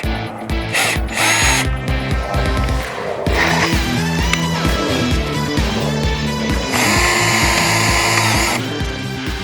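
A power drill whirs loudly in repeated bursts, drilling holes in a vegetable garden cover frame, spinning up and down close by, with rattling mechanical clatter between runs.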